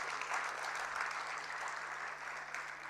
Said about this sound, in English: Let's please give her another massive round of applause.